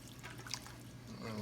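Water being poured into a pan of thinned liver and onion gravy, a soft continuous liquid trickle and splash close by, fairly quiet, growing slightly louder toward the end.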